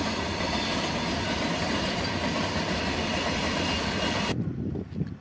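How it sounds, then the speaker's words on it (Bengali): A goods train slowly pulling out of Masagram railway station, a loud steady rumble and rattle of wagons running continuously, then cutting off sharply near the end. "দেখতে পাচ্ছেন মালগাড়িতে আস্তে আস্তে বেরিয়ে যাচ্ছে"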